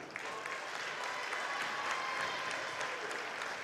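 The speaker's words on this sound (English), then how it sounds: "How about a round of applause for Mr." Applause from the crowd at a girls' district basketball tournament awards ceremony, steady dense clapping filling the gym from start to finish with no voices over it.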